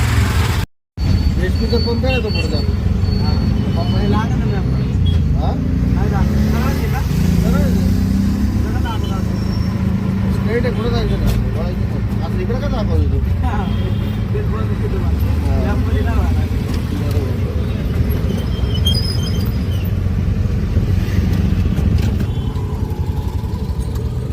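Auto rickshaw riding through traffic, its engine giving a steady, close drone with road rumble throughout, while people talk over it.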